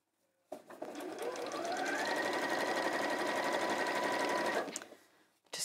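A sewing machine started with its front start-stop button hums in one steady run of about four seconds, close and even, then winds down to quiet.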